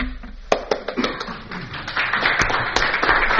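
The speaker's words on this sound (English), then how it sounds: "That's my first applause" Meeting audience gives brief, scattered applause for an incoming presenter, a handful of hand claps rising into a thin patter in a large room.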